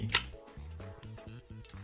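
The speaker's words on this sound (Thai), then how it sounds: "เทสที่สปีดชัตเตอร์บี อันนี้คือชัตเตอร์บี" A camera shutter fires at bulb speed, a sharp click followed by a rapid series of small mechanical ticks and a second click at the end, close and quiet.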